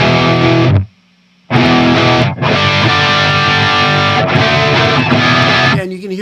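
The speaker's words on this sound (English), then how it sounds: "Here's the sound of the amps with the DI." Distorted electric guitar played through blended amps combined with a DI and a VH4 amp simulator, loud dense chords with a brief gap near the start, no talking.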